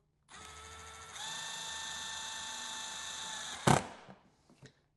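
A power drill drives screws into a car bag lid during a Hertz audio upgrade install. The motor whirs steadily, climbs to a higher pitch partway through, then stops with a sharp clunk and a few faint clicks. Nobody speaks.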